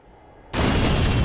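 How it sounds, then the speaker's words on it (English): A LEGO Ninjago: Shadow of Ronin firework goes off in one sudden loud blast after a quiet moment, then holds as a broad roaring burst until the end. "Watch out for that firework!"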